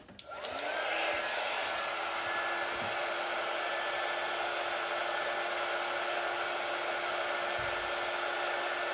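A heat tool dries chalk paste on an Easter cross stencil, blowing a steady, close, loud whir that starts after a few brief clicks and runs unbroken throughout with no talk.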